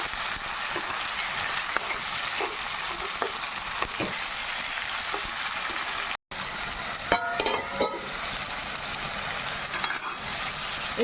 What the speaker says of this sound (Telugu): అంతా ఒకసారిగా కలుపుకుందాము.